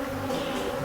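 Honeybees swarm around an open hive while a queenless colony is being combined, producing a dense, steady, close buzz that continues without pause and without any voices.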